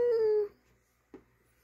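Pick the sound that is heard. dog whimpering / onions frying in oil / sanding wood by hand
dog whimpering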